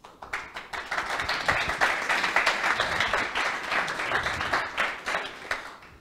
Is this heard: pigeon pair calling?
no